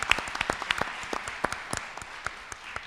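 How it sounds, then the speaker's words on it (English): Sparse applause from a small audience at a health symposium, distinct individual claps scattered irregularly, close and crisp, thinning out toward the end. "So a big round of applause for all of the NYP."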